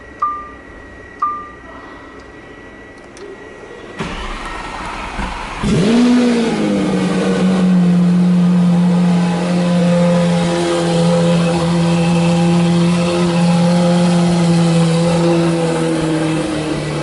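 Lamborghini Aventador SV, quiet at first with a couple of sharp knocks, then the engine fires and roars up loudly, sustaining a powerful rising bellow for many seconds.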